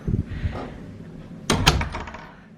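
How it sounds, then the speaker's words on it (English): The front door of a house opening, with a few soft low thumps and shuffles followed by a sharper clack and rattle of the latch, close by and with no talking. "you come through to the front door"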